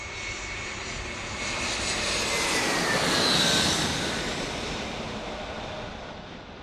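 A JetBlue jet airliner arriving from Boston passes at San Diego airport, its broad roar swelling to a peak midway and then slowly fading, with no talking.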